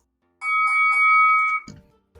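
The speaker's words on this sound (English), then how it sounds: "I love that you found a bell sound effect." A tiny handheld bell sound effect used at a tabletop role-playing session, a bright sustained ring with steady tones lasting over a second, then a short muffled knock as it ends.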